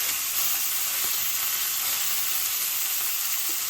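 Pork tenderloin sears in an oiled pan with a loud, dense, continuous sizzle that holds steady throughout.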